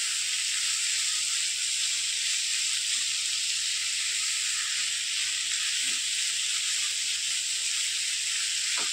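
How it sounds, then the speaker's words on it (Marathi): Snake gourd (padwal) cooks in a covered pan over low gas, releasing a steady, even hiss of steam and faint sizzle that continues unbroken throughout, with no voices. "गॅस कमी करून झाकण ठेवायचं आपल्याला आणि छान वाफ काढून घ्यायची"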